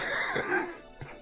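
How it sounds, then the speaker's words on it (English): One person close to a microphone clears their throat and gives a short harsh cough, a brief loud burst with a second smaller cough just after. "I'm sorry for coughing in the microphone."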